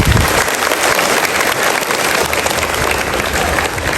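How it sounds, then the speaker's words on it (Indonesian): Steady applause from a crowd at a school event, dense clapping that holds at an even, loud level throughout. "Tepuk tangan."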